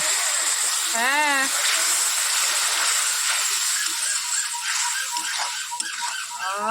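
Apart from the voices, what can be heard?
water added to sizzling egg curry (dimer kalia) in pan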